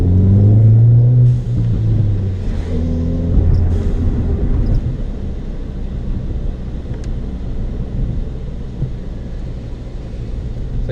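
A Ford Fiesta ST running on an E30 ethanol blend drives along, a steady low engine rumble heard from inside the cabin, loud at first and then settling into a constant drone.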